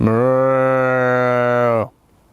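A cow lets out a single long, loud, steady moo lasting nearly two seconds, close by, then cuts off into near silence.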